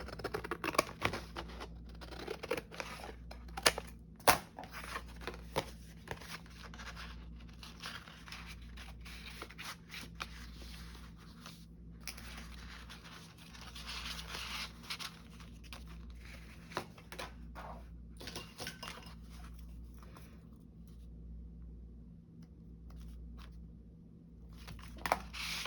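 Scissors snip through paper for a Halloween mini lapbook craft, quiet intermittent cuts and crisp clicks scattered over a low steady background hum, close and faint, with long gaps of near-silence and no talking.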